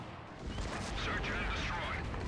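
Bursts of gunfire in the video game Max Payne crackle and boom continuously, with busy mid-range clatter throughout and no clear pauses.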